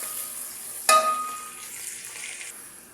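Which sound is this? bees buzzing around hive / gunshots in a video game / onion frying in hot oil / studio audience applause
onion frying in hot oil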